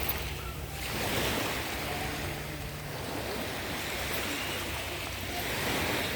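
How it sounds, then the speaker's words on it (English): Waves wash steadily onto a beach on a calm, hot day, a continuous soft surf roar with gentle swells, fairly close and loud, with no talk. "It's a calm day by the beach."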